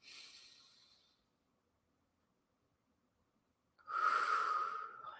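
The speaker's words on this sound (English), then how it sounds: "Just breathing." Calm deep breathing during a calming-energy exercise: one soft, airy exhale fading out, a long pause of silence, then a stronger, close breath with a hissy, slightly rough tone.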